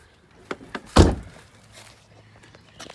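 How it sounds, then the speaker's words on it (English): A car door shuts on a vehicle with a braced car audio system, landing as one solid, close thunk that a few lighter knocks precede and follow. "So now let's shut the doors."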